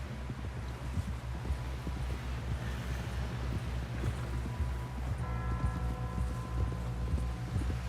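Horse hooves gallop in Red Dead Redemption 2, a steady rapid clip-clop of beats carrying through the whole stretch over a low rumbling outdoor bed, with a brief tonal mechanical hum joining near the end.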